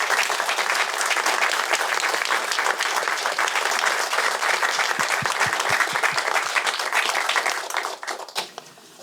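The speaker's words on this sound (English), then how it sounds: "Can we give them a round of applause, please?" A room of audience members at a talk applauds warmly, a dense, steady burst of clapping that holds evenly for several seconds before thinning into a few last claps and fading out.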